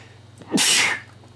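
A single sharp sneeze, close and loud, with a quick breath in before a bright, noisy burst that fades over about half a second.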